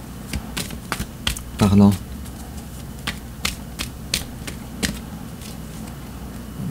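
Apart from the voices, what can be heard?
drawing and handling tarot cards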